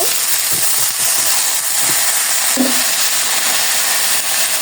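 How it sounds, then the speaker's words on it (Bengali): Vegetables for shukto fry in hot oil, a loud continuous sizzle and hiss close by, with a few brief clinks of stirring and no talk. "তেল দিয়েছি, এখন শুক্তোটা দেব। শাক নামিয়ে ফেলেছি, এটা আগে একটু ভেজে নেব।"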